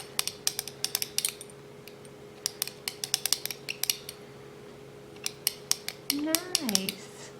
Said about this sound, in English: add another milliliter of the ammonia. And I'm going to stir it.